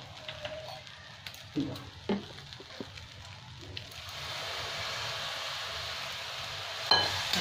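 A splash of water hits chowmein frying with vinegar and chowmein masala, and a loud hissing sizzle swells and holds for several seconds after a few clanks of stirring, with a sharp metallic knock near the end.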